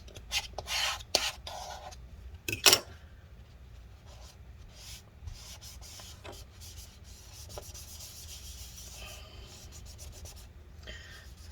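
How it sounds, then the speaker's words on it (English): Adhesive gunk being scraped loose during a battery replacement on a 13-inch Early 2015 MacBook Pro A1502: close, dry rubbing and rasping strokes, sharper bursts near the start, then steadier quieter scraping with no talk. "you should be able to scrape all this gunk up"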